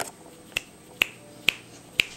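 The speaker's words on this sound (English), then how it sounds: "Can you snap your fingers for Mommy again?" A baby girl snaps her fingers four times, each one a sharp, close, bright click, spaced about half a second apart in an even rhythm, with quiet between the snaps.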